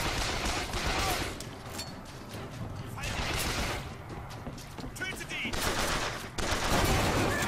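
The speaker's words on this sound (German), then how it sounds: "Ah, from where are you firing at me?" Rapid bursts of gunfire from the video game BioShock Infinite crackle densely and loudly across the whole stretch, mixed with someone talking over the shooting.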